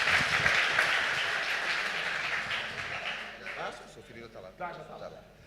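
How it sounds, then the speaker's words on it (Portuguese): A church congregation bursts into applause, a dense wash of clapping that fades over several seconds while a voice speaks over it toward the end. "Uma salva de palmas ao Senhor."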